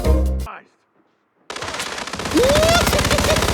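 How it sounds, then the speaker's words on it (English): Automatic gunfire in the stealth video game Hitman, a dense rapid burst of shots filling the second half loudly after a brief silence, with a short burst also at the start. "Why are they shooting me?"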